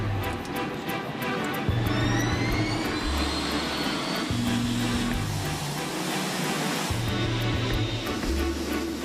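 A Boeing 747-8 Intercontinental jumbo jet on its first takeoff roars steadily and loudly from a distance, a continuous broadband jet-engine rumble with a rising whine and no talking.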